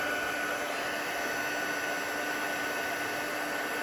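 A heat tool blows a steady, loud whooshing hiss with a faint hum over a painting while melting embossing powder, unbroken for several seconds, close and with no voices.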